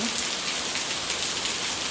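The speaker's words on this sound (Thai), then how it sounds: "ฝนเทลงมาเลย" Heavy rain pouring down in Chanthaburi, a dense, steady hiss of downpour striking surfaces, loud and uniform throughout with no voices.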